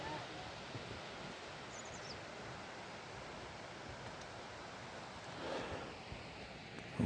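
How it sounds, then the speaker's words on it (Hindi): Waterfall at Bhim Dwar heard as a steady, broad roar of rushing water filling the scene at a moderate distance, with a little wind and faint movement nearby and no speech. "ये रहा वो झरना।"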